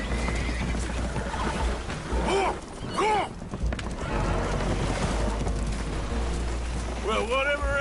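Spooked horses whinny and neigh aboard a damaged boat taking on water in Red Dead Redemption 2, several sharp cries rising over a constant low rumble and rain-like wash, with voices talking in between.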